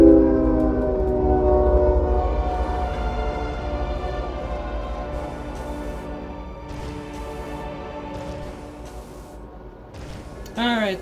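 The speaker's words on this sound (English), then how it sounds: "Incoming train 2." A train in the video game Metroid Prime 3 passes with a strong tonal horn that slowly fades as it moves away, rumbling underneath, followed by a brief rising whistle-like sweep at the end.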